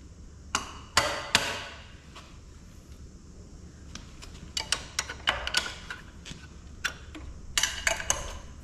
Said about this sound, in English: sometimes we still need to get underneath and just give it a tap to make it start moving a little bit